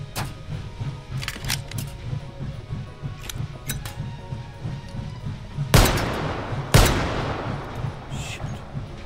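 Gunfire in the VR shooting game H3VR: a few faint distant pops early on, then two loud sharp shots in quick succession, each trailing off into a noisy decay.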